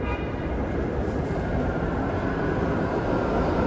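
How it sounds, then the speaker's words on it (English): A New York City subway E train rumbles underground beneath a Manhattan street, giving a steady, dense roar that stays loud and even throughout with no voices on top. "As we hear the, I believe this is the E-train beneath my feet here"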